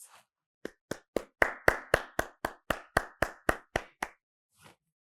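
Graduates at a SUNY Old Westbury virtual commencement are applauded by a small group clapping in unison, about fourteen sharp, evenly spaced claps that build, hold steady, then stop, with one faint late clap trailing after.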